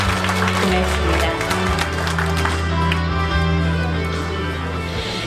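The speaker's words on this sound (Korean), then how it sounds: "다 함께 환영의 박수 한번 나눠주실까요?" Crowd applause at the opening ceremony of a hanbok fashion show and model contest, steady clapping layered over loud amplified music and a constant low hum.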